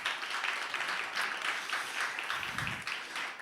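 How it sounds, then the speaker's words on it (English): An audience at the InnovateHER 2024 event applauds, a soft, steady patter of many hands clapping, fairly faint and distant, with a brief low thump near the end. "Round of applause, please."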